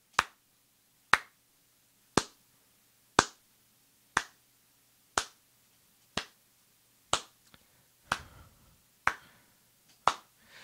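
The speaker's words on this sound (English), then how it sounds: "That's me clapping" Single sharp hand claps repeat at a steady pace of about one per second, dry and close, about eleven in all, with quiet room tone between them and no talk.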